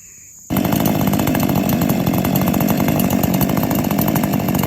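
50 cc Husqvarna chainsaws, a 346XP class, roar to life outdoors, warming up after a brief quiet start with a loud, steady buzzing idle and revving that stays near and continuous, with no speech.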